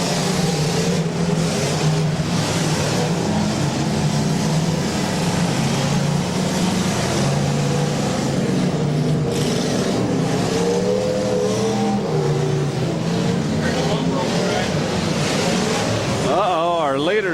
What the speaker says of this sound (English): They were rounding the north barricade right there, making their way through that.